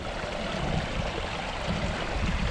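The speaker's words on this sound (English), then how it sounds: "Look at these beautiful waterfalls." Waterfalls at a zoo, a steady dense rush of falling water, loud and continuous with no voices.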